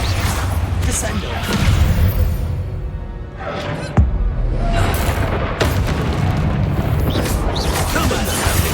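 Spell impacts in the Hogwarts Legacy video game: deep rumbling booms and crashing blasts, with a sharp hit in the middle, layered over dense battle noise and voices.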